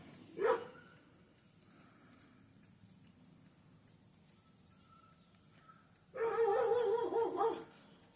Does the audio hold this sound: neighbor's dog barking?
yes